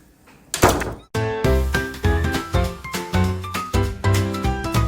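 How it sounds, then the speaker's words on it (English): A door closes with one solid, close thunk, followed immediately by a steady run of melodic music. "Just please close the door."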